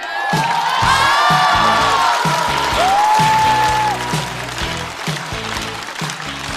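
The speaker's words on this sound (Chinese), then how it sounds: "掌声欢迎季烨" A stand-up comedy audience applauds and cheers as a comedian walks on, loud dense clapping with whoops and shouts, easing slightly toward the end.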